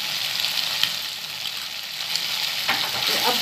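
Ginger-garlic paste sizzles and crackles steadily in a hot pan, with a few stirring scrapes near the end and no talking.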